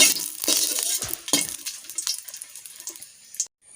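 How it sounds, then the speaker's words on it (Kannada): Ten dried red chillies fry in a pan for Mangalorean masala avalakki, giving a steady close sizzle broken by a few sharp scraping stirs, then a quick cut to quiet near the end. "ಅದಕ್ಕೋಸ್ಕರ ಇಲ್ಲಿ ನಾನು 10 ಒಣಮೆಣಸನ್ನು ಹಾಕಿಕೊಂಡು ಫ್ರೈ ಮಾಡ್ತಿದ್ದೇನೆ"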